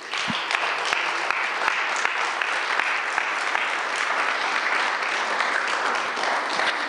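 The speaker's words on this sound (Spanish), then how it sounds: "Cuando le damos un aplauso al Eterno." A church congregation claps together during a sermon, steady dense applause filling the room from start to finish, with a few sharper individual claps standing out near the front.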